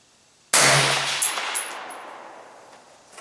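A single sharp rifle shot fired at a dime 200 yards away, a loud abrupt crack with a short low thump, then a long ringing echo that fades slowly over about three seconds.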